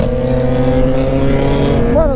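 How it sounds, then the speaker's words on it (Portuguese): Engine of a borrowed Yamaha XJ6 motorcycle while riding, a loud close steady hum with a pitch rise right at the end, a voice over it. "Mano, tô com a moto emprestada do meu amigo"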